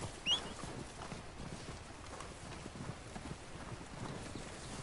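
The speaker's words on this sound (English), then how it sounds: "Alright, horse, come on." A horse in Red Dead Online trotting in, soft rhythmic hoof clops steady and fairly faint, rising slightly as it approaches, with no talk over it.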